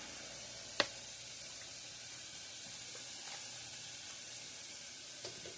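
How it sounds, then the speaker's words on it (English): Sauce ingredients for spaghetti sauce saute in a pan with a soft, steady sizzle, faint and continuous, broken by a couple of sharp clicks or taps. "Let that saute for about 10 minutes"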